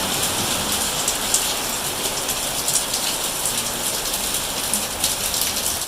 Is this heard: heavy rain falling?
yes